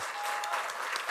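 A live show audience applauds a guest, a faint, very brief burst of dense clapping.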